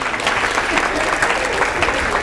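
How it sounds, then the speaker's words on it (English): Audience applause at a comedy talk, a dense, loud wash of clapping from a crowd heard close up, steady throughout with no gaps. "Give a big round of applause."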